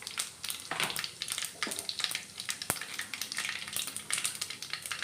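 Green chilies go into hot oil already holding mustard seeds and cumin, setting off a loud, dense, continuous sizzle and crackle with quick popping bursts close at hand.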